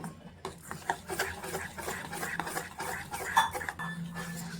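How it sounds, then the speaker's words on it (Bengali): Urad dal batter for poya pitha whisked by hand in a bowl, giving a steady run of soft clinking and scraping strokes, close and moderately quiet, with no talking. "প্রায় 2 থেকে 3 মিনিট সময় নিয়ে এটা আমি ভালো করে ফেটিয়ে নেব"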